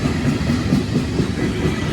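A passing train in Aguascalientes, Mexico, its rail cars rolling by close and loud in a steady, continuous rumble with clattering wheels and no voices.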